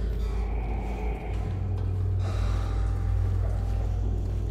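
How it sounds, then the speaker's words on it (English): Heavy, close breathing and gasping rumble in a dark hospital area of the horror game Silent Hill 2 Remake, layered over a steady low drone that runs unbroken for several seconds with no talk. "I hear breathing and I don't like it."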